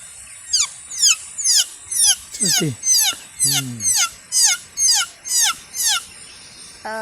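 A voice imitates a baby chicken chick with a rapid series of about a dozen high, thin descending cheeps in a steady rhythm.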